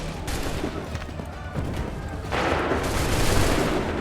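Massed musket fire rumbles in Assassin's Creed III, a steady crackling fusillade that swells louder midway into a denser, brighter volley of overlapping shots, with no talk.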